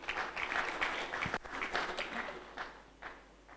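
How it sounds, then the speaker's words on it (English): An audience at a university inaugural lecture claps together in a steady, dense patter that swells, holds, then thins out and fades. "to please give them a big round of applause for being here present."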